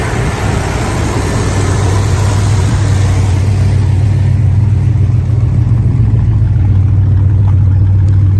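A muscle car engine rumbles steadily through a dual exhaust, a loud, close, continuous low idle with a slight rev early on, heard alone.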